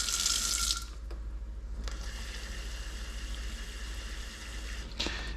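Water poured into a bowl while mixing beer batter for frying whiting, a steady close trickle running under a running tap, with brief clinks and splashes as the pour starts and stops.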